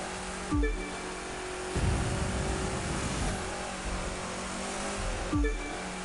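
Rallycross cars race on streets in The Crew 2, their engines roaring continuously amid dense game noise, with sharp whooshing bursts as vehicles pass close by.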